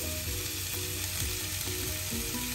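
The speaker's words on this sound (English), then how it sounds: "this just needs a quick stir." A quick stir of the star ingredient for a stuffed paratha filling in a hot pan, giving a soft steady sizzle with light scraping and clicking, faint and close, no voices.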